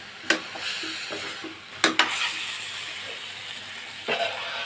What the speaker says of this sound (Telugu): ఇప్పుడు జీడిపప్పు కూడా దీంట్లో వేస్తున్నానండి. పచ్చి జీడిపప్పు అండి. తిప్పుతున్నాను.